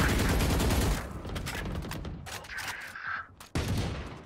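Rapid gunfire bursts from a shooter video game, loud and dense at the start, then thinning into scattered shots with game sound effects before another heavy burst at the end.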